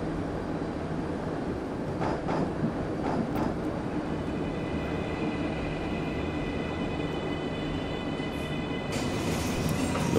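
Simulated train running in the Omsi 2 game on the Septa Grundorf Line, a steady continuous rumble with wheel and motor hum, a few faint clicks near the start and a rising whine toward the end, heard alone.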